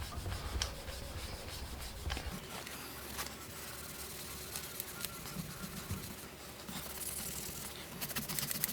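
Hand sanding with 800 grit paper on a custom Harley Davidson Sportster XL883C part, a steady soft scratching rub that repeats in short strokes, quiet and close, with faint birdsong in the background.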